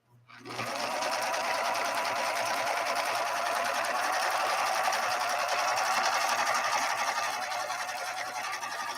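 A Viking Husqvarna 3230 sewing machine, a rescued unit from a smoke and fire incident, runs a short 3-point zigzag stitch: a steady, fast mechanical whir with rapid needle chatter that starts abruptly and continues evenly, close and alone.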